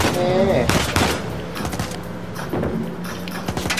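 Gunfire in the video game Uncharted 4: a burst of rapid shots followed by scattered cracks, set among game effects and someone talking over the action.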